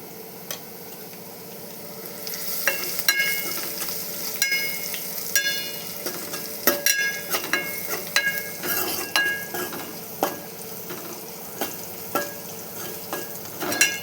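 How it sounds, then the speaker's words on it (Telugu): Ingredients frying in a little oil in a pan with turmeric, a steady sizzle with frequent metal spoon clinks and scrapes against the vessel, no talking. "ఇది కొంచెం నూనెలో ఫ్రై కావాలి, పచ్చివాసన ఉంటుంది."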